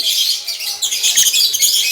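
Continuous high-pitched chirping and twittering of lovebirds, loud and close, a busy overlapping chatter with no talking.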